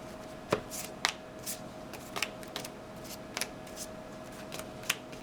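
A deck of playing cards for a trading card game is shuffled by hand at a table, giving scattered crisp riffles and snaps in short bursts, fairly faint against a quiet steady hum.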